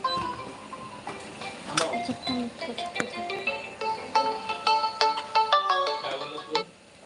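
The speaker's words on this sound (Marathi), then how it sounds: "फोन उचल फोन उचल" A phone ringtone plays a melody of bright repeated electronic notes, steady and fairly close, with faint voices in the background.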